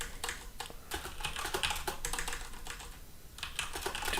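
Typing on a computer keyboard while building a mobile app, quick irregular bursts of close, crisp key clicks with short pauses between runs.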